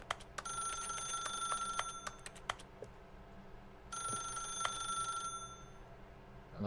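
A telephone rings repeatedly in the video game The Stanley Parable, bright jangling bursts over a steady hum with scattered clicks, pausing briefly and then ringing again.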